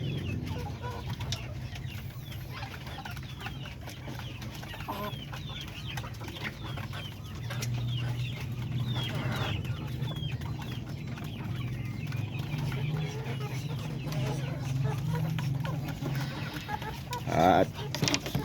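Roosters and hens on a backyard poultry farm cluck steadily throughout, with several birds near and farther off and a louder call near the end; a voice murmurs faintly underneath.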